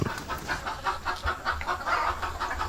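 Wild jungle fowl cluck in a steady run of short repeated calls, close and moderately loud, with no one speaking.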